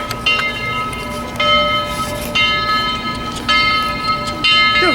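A train passes close by, its steady rumble carrying a repeated ringing bell that clangs in regular strokes about once a second.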